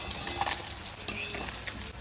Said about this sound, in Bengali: শুধু তাওয়ার উপরে তেলটা লাগিয়ে দিয়ে মাছটা এপিট উঠে ভেজে নিতে হবে